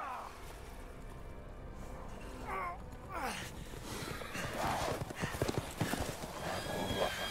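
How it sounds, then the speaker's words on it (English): Horse hooves clip-clop steadily in the Resident Evil Village video game, joined by a horse neighing and whinnying, with other game sounds layered throughout. "they got horses too"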